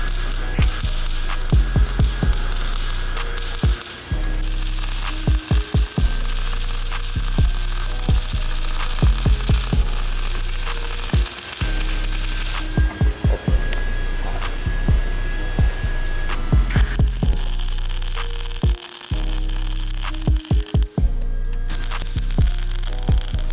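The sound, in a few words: welding thin sheet metal fenders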